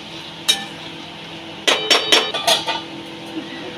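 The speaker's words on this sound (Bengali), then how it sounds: "এটাকে আমি এবার একটু ভালো করে নেড়ে চেড়ে ঢাকনাটা বন্ধ করে রেখে দেবো।" Metal utensil clinking and scraping against a pot while chicken scraps with onion and tomato are stirred, followed by the lid clattering shut; a few sharp close knocks in a quiet home kitchen.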